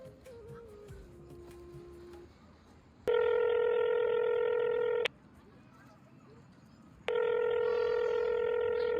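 A telephone being dialed indoors: faint keypad tones, then two long loud ringback or dial-tone bursts separated by a quieter gap, close and alone.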